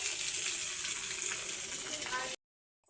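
Potatoes and eggs frying with salt, turmeric and spices in a pan for Bengali egg curry: a steady, loud sizzle with faint stirring that runs alone, then stops abruptly near the end.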